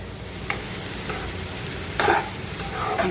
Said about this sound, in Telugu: ఇది వేస్తున్నానండి చిగురు చింత చిగురు నలిచి వేస్తున్నాను నలిపి